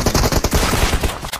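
Rapid gunfire rings out in a mobile battle royale shooter, with dense bursts of automatic shots crowding close together, loud and near, over a brief stretch with no talk.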